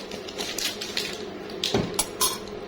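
A spoon beating cake batter in a bowl, a series of irregular clinks and knocks against the dish, close and fairly quiet, with no talk.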